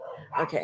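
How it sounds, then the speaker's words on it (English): Dogs barking and whimpering at a UPS delivery man, two short bursts of yips and barks close by, with a person's voice speaking over them. "I apologize for the barking."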